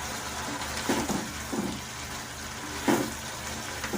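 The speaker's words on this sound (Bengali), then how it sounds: "চিংড়ি মাছটা মিশিয়ে দিয়ে আমি একটু নাড়াচাড়া করে নিলাম" Prawns stirred into spinach frying in a pan for a prawn hariyali, a steady oil sizzle with a few soft scraping stirs rising briefly above it.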